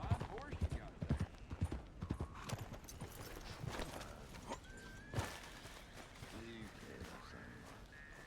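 Horse hooves clip-clop in a quick run of clattering steps in Red Dead Redemption 2, then slow and fade under a voice and game sounds.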